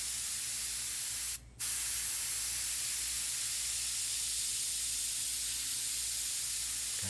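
Airbrush sprays paint very lightly onto a photorealistic sunset painting, a steady close hiss that stops for a moment partway through and then carries on alone.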